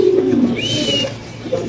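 Lahori pigeons coo nearby, with low throaty coos and a brief higher whistle-like note over a short stretch, loud and close.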